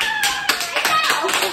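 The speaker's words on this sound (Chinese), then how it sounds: "掌声！" A small group claps at a Christmas gift exchange on a camping trip in Miaoli, a few uneven bursts of hand claps mixed with excited voices talking over them.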